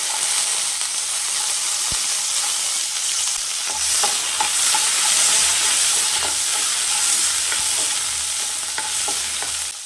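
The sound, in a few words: frying shallots in oil for peanut mint chutney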